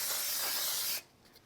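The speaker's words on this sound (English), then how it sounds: "I'm going to give it a quick spray glue backing" Spray glue sprayed onto mocha card backing for a die-cut card: one steady, close hissing burst lasting about a second, then cutting off to near silence.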